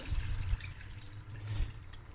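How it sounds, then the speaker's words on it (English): Hot water poured into a pot of cooking butter bean and lamb curry, a steady low liquid gush with faint drips and trickles, close and moderately quiet, no voices. "now I'm going to add some hot water"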